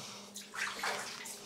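In a flooded cellar of an abandoned monastery, water sloshes and splashes in a brief close burst, as if stirred by a footstep.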